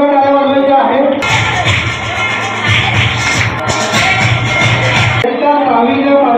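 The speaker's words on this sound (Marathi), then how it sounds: "इयत्ता 5वी प्रथम क्रमांक आनंदी निलेश या विद्यार्थ्यांसाठी जोरदार टाळ्या वाजवायच्या आहेत." Applause and cheering break out from a village crowd at an Independence Day prize ceremony for a fifth-grade student, a burst of clapping lasting about four seconds between stretches of amplified music.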